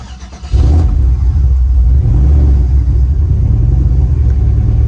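Turbocharged Chevrolet Silverado pickup engine cranking briefly, then catching and running with a loud, steady low rumble close by, no talking.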